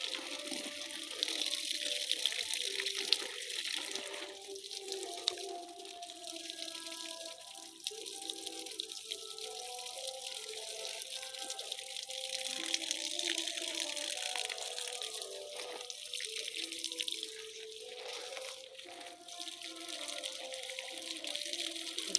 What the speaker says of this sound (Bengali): এখন এই চুইঝাল গাছগুলোরে পানি দিচ্ছি